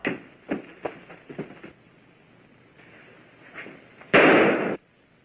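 A few sharp pops crack out, followed by a loud burst of noise, gunfire on the soundtrack of the film Reefer Madness.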